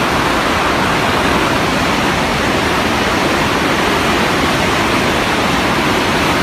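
Floodwater roars out of Oroville Dam during heavy snowmelt and rain, a loud, unbroken broadband rush that stays constant throughout.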